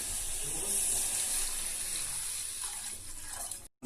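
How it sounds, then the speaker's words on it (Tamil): A glass of water pours into a pot of boiling ginger remedy on the stove, giving a continuous splashing rush with a hiss that fades slightly before stopping abruptly. "இதோட இன்னொரு கிளாஸ் தண்ணி ஆட் பண்ணிக்கலாம்."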